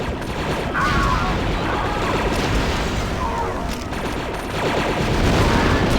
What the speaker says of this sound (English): Now lob the grenades at that gun position